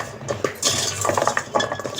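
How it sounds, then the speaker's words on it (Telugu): A metal plate is clattered off a pan of sugar syrup for sweet chitti kaja, giving a few clinks and scraping metal knocks up close with no talk. "ఇప్పుడు ప్లేట్ తీసి చూద్దాము."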